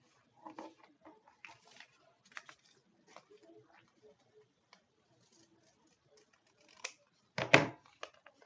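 Scissors cut out a traced pattern shape at close range, giving soft scattered snips and paper rustles that are faint and uneven, with a louder crinkling handling sound near the end.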